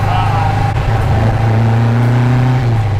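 A 1974 VW Super Beetle with a 2054cc stroker engine and 44 carburetors revs high and steady, a loud continuous engine drone that holds its pitch throughout, close and dominant with no pauses.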